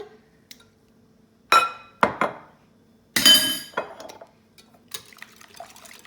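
Eggs are beaten in a bowl with a whisking tool, giving sharp clinking strokes against the dish in a few quick bursts with short pauses between, close and fairly loud with no voices.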